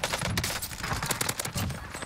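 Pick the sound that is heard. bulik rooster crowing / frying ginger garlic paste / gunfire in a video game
gunfire in a video game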